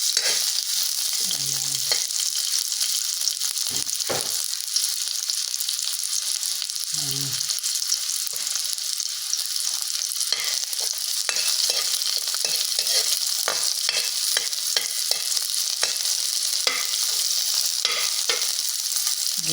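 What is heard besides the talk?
sautéing onion and garlic in cooking oil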